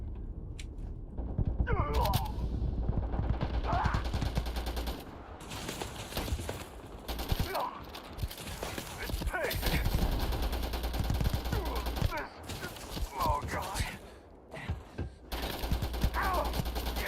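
Bursts of heavy gunfire from a high-recoil gun in Starfield, rapid repeated shots in several strings with short pauses, loud and close with mechanical clatter between volleys.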